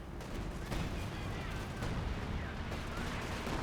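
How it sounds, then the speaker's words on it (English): Panzerwerfer rocket barrage in the Company of Heroes 2 war game: a dense, unbroken rumble of rapid impacts and firing bursts, moderately loud and steady throughout, with distant battle noise layered beneath. "Yes, we do in fact see a Panzerwerfer barrage"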